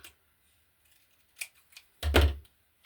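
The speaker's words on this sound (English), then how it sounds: "Okay, let's cut this a bit narrower." Scissors cut paper for junk-journal ephemera cards, with a few faint snips followed by one louder, longer close cut near the end, in a quiet room.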